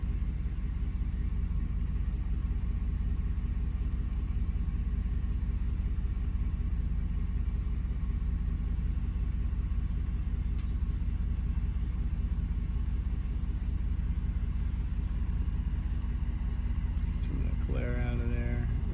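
A car engine idling in drive with the idle timing locked, a steady low rumble heard from inside the car, with a voice speaking over it and a brief whirring noise near the end.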